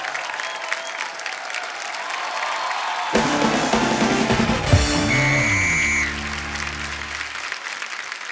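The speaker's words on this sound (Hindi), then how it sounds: "थैंक यू, जोरदार तालियां।" Studio audience applause on a comedy talk show, steady dense clapping that builds and carries under music and a voice throughout.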